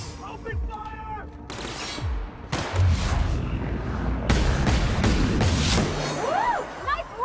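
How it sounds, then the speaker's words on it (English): Gunfire in a firefight from the video game The Outer Worlds, loud rapid shots and blasts layered densely over one another, with voices calling out over the fighting. "Watch out! Open fire!"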